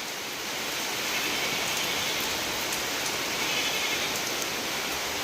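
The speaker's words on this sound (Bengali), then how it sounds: "কি বৃষ্টি হচ্ছে গো ভালোই বৃষ্টি হচ্ছে দেখো" Steady rain falls heavily outdoors, a dense, even hiss of drops on surfaces that holds without a break, with no voices.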